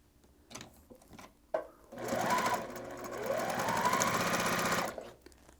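Sewing machine stitching quilt block pieces together, running steadily for about three seconds after a few soft handling clicks, then stopping; close and fairly loud with no talk.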